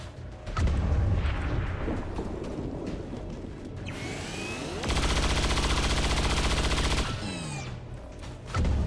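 Gunfire in the video game XCOM 2: loud, dense automatic bursts and rattling shots, with a sweeping whoosh midway and a sustained heavy stream of fire before it cuts back to quieter battle noise; no talking.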